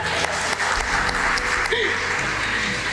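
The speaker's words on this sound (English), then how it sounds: "Can we have a round of applause for that?" A loud, steady wash of applause fills the room from an audience at a book launch, dense and unbroken throughout, with faint background murmur.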